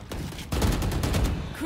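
Gunfire in Valorant on a team deathmatch map, a rapid close burst of shots that jumps louder halfway through and keeps going.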